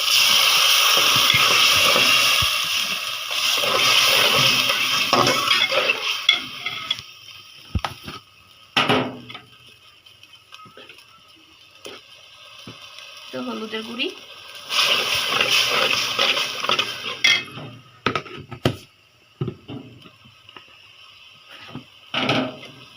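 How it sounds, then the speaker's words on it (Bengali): Water poured into a pan of layer chicken curry, two long splashing, rushing bursts separated by scattered clanks and handling noises, with voices heard in the background. "পানি দিয়ে দিব"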